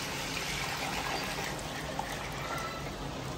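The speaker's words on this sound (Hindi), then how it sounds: "अब इसमें हमने जो बनाया हुआ है दही अपना और बेसन का जो पेस्ट पानी बनाया है वो अब इसमें ऐड करेंगे" Yogurt and gram flour paste poured into curry masala in a cooking pot, a steady soft liquid pour and trickle running continuously throughout, moderately close with no talk.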